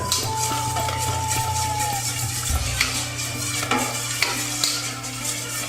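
A lime juice, fish sauce and brown sugar dressing for a Thai carrot salad is stirred in a bowl, a steady close scraping and swishing with occasional clinks and a faint background hum.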